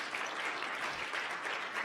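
A conference audience at a multi-stakeholder health consultation meeting claps steadily throughout, a soft, even patter of many hands heard at some distance, fairly faint and continuous.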